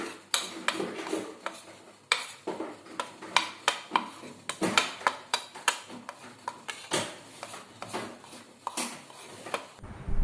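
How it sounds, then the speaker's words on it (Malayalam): Cornflour, maida, chili powder and garam masala are stirred together on a plate for crunchy egg fingers, giving a steady run of close, sharp spoon-on-plate clinks and scrapes with no talk. "വേറൊരു പ്ലേറ്റിലേക്ക് 1 ടേബിൾ സ്പൂൺ കോൺഫ്ലോറും 1 ടേബിൾ സ്പൂൺ മൈദയും കുറച്ച് മുളക് പൊടിയും ഗരം മസാലയും ചേർത്ത് നന്നായിട്ടൊന്ന് മിക്സ് ചെയ്തെടുക്കാം"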